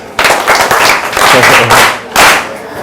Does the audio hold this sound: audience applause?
yes